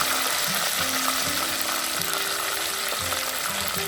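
Brinjal sizzles steadily in hot oil in a pan while making badanekayi gojju, a dense crackling frying hiss that carries on without a break, with light scraping clicks over it.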